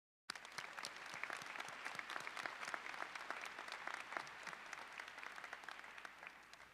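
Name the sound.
graduation audience applause for parents and mentors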